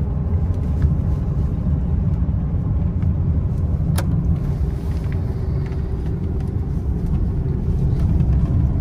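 A truck drives along the road, heard from inside as a loud, steady low engine and road rumble with tyre noise throughout, and a single brief click partway through.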